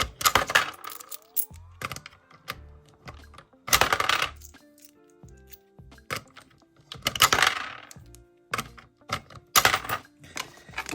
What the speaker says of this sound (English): So I'm going to put the coins in here.